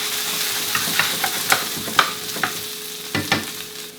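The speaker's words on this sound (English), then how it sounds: "now I'm going to just put my spinach right in there, right on top" Spinach sizzles in a pan for an omelet, a steady close fry hiss broken by a series of sharp scraping clicks as it is stirred, no voices.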